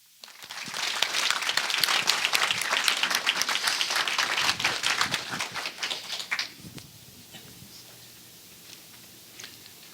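Audience applause welcoming a speaker at a museum evening lecture swells quickly into dense, crackling clapping, holds for several seconds, then fades out, leaving near silence.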